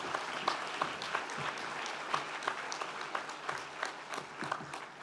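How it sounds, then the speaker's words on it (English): A graduation ceremony audience at the University of Stirling claps again after a speech, a moderate round of applause with individual claps standing out over the steady patter. "give him another round of applause for that"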